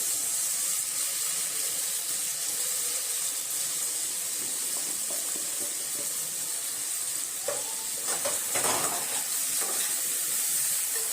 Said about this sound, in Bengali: দিয়ে ভালো করে মশলাটাকে কষাতে হবে